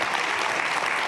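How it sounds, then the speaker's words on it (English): An audience claps at a celebration event, a thick, continuous burst of applause from many hands, loud and unbroken for the whole short stretch. "yes, you can clap for that."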